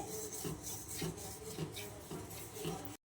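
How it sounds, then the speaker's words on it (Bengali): Semolina being stirred in a pan while cooking a Bengali sweet, giving a steady rasping scrape with rhythmic strokes roughly every half second, close and continuous with no talk. "সুজি জানি নিচে না ধরে যায় তার জন্য আমরা বারবার এটাকে নাড়তে হবে"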